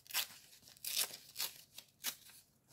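Several quick rips of something being torn apart by hand, each a short dry burst close by, spaced unevenly over a few seconds with quiet between.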